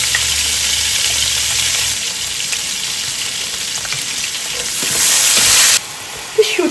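Onion sizzling loudly in hot oil for a fish curry, a steady close frying hiss with stirring that swells louder near the end and then briefly drops.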